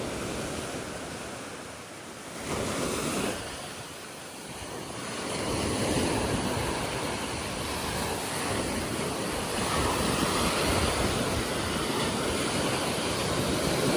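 Surf on Boracay island in the Philippines at high tide, a steady loud wash of breaking waves rolling in continuously, with a sharper rush near the start and constant broadband roar and some wind buffeting.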